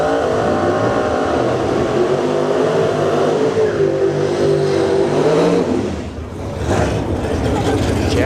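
Drag racing cars rev at the start line at Battle in the Bay 6, including a nitrous Monte Carlo, with loud sustained engine roars that dip briefly near the end before rising again, under an announcer's voice.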